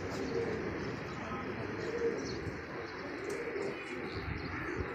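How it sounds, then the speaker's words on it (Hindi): Pigeons cooing and chirping amid a steady, busy outdoor background murmur, soft and continuous throughout. "बाकी कबूतर ये फिर रहे हैं।"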